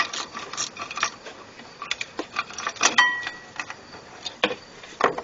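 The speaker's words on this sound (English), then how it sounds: "So I'll just use the ratchet to finish pulling that one off." Ratchet loosening the last bolt on the thermostat housing of a 2003 Jeep with a 4.0 engine, heard as close, irregular clicking and metallic ticks in short bursts with no talking.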